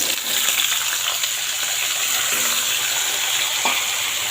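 Potatoes and pointed gourd frying in hot oil in a pan, giving a loud, steady, close sizzle and hiss throughout with a faint clink near the end.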